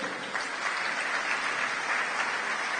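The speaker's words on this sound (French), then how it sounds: "Acclamons les jeunes couples" A church congregation applauds young couples with dense, sustained clapping from a large crowd that holds steady throughout.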